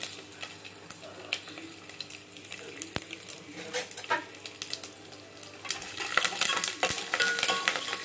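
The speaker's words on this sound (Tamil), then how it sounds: "கடுகு, கருவேப்பிலை, சீரகம், வெந்தயம், மிளகு போட்டு தாளிக்கணும்." Crackling sizzle of mustard seeds, curry leaves, cumin, fenugreek and pepper frying in hot oil, steady and close, with occasional stirring clinks and a sharper burst of popping toward the end.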